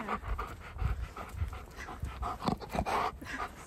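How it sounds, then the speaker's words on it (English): A husky snorts and pants close up in repeated irregular bursts with wet nasal puffs, while a person talks nearby. "So many snorts."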